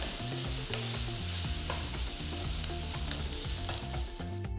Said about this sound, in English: Cook the onions for about 5 minutes, but do not let the onions turn to a golden brown color